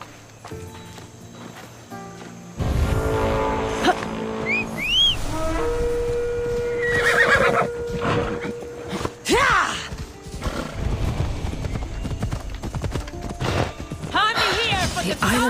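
Horse hooves and a whinny in the Assassin's Creed Odyssey video game, with clip-clop steps and a neigh over a bed of game music and ambience, with voices talking at moments.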